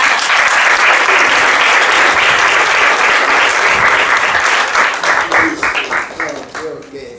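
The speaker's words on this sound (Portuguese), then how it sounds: "vamos dar uma salva de palmas para o Robinho" A church retreat-house audience claps for a young man named Robinho, a dense, loud burst of applause that holds steady and then thins into scattered claps as it fades.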